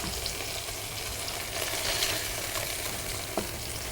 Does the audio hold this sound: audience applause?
no